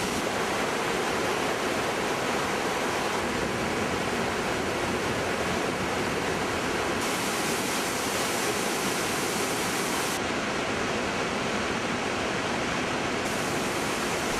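Iguazu Falls in Brazil, a massive waterfall plunging about 80 metres, roars as a loud, continuous broadband rush of falling water that stays steady throughout with no voices.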